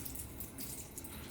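Makeup brushes are rinsed under a running tap, a steady close hiss and splash of flowing water with no voices.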